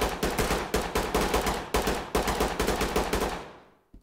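Rapid bursts of video-game gunfire crack out loud and close, several volleys of automatic shots following one another before cutting off abruptly near the end.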